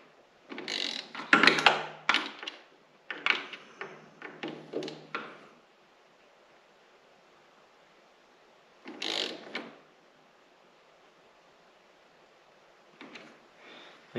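Metal ratcheting and clicking from bolts being tightened on the chaincase of a Thundercat Sidewinder snowmobile: several close bursts of turning, then a pause, one short burst and a faint final one.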